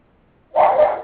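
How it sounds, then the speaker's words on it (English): A dog gives one loud bark or yelp near the microphone after a half second of quiet. "sorry to those who may hear my dog barking in the background"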